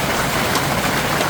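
Heavy rain pouring down outdoors, a loud, dense, continuous hiss of water with no gaps or voices.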